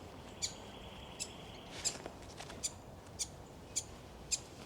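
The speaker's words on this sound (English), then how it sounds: "So that's a begging call" Young bird begging at Yellingbo Nature Conservation Area: thin, high chirps repeat roughly every half second, faint and close over a steady bed of outdoor background noise.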